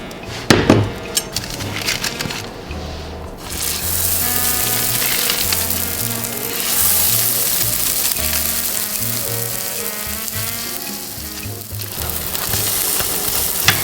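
Lentil patties fry in olive oil in a pan, a loud, steady sizzle and crackle running throughout, with occasional clinks and scrapes of utensils and no talking.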